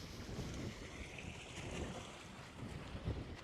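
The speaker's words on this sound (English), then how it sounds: "It is really windy right now." Strong outdoor wind buffeting the microphone near a sports school in Japan, a continuous low rumbling roar with gusty swells and a sharp thump near the end, no voices.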